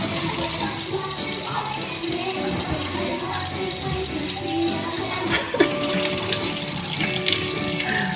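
Tap water runs steadily into a sink as a young child washes her face, a continuous close gushing stream with a brief splash partway through.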